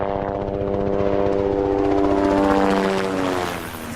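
Helicopters coming and going from a rescue coordination centre near Te Pua in the far north give a loud, steady rotor and engine drone that holds for several seconds, then eases slightly, with no talking.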